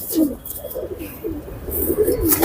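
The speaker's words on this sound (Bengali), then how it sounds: "এগুলো জেনুইন গিরিবাজ কবুতর" Giribaz pigeons coo in a loft at Hemayetpur, Savar, their soft, low, rolling calls repeating close by in steady overlapping phrases, with faint background voices.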